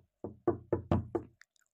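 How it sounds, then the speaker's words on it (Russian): Five evenly spaced knocks on a wooden door in Minecraft, a blocky video game, come in a quick, crisp sequence with nothing else around them. "Кто ко мне в дверь стучится?"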